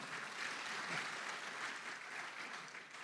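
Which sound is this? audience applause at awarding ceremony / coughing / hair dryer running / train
audience applause at awarding ceremony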